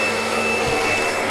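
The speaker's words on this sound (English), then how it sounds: "This is the best vacuum cleaner ever." Vacuum cleaner running in a hotel room, a steady close whir with a high whine that holds constant throughout without any voices.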